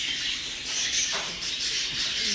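Large exhibition-type budgerigars in a breeding aviary chirping and chattering continuously, a dense, bright twittering that stays steady at close range throughout.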